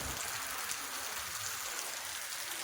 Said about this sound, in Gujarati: કેવો પતરા પર કેવો વરસાદ પડે છે અને ધૂળમાં ઉડે છે